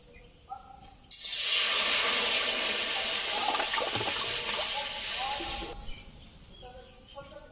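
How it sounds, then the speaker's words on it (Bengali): Roughly half a litre of water pours into a wok for boiling jackfruit seeds, a loud rushing splash lasting several seconds before tapering off, with faint background tones before and after. "এখানে জল রয়েছে হাফ লিটার মতো, কড়াইতে দিয়ে দিচ্ছি"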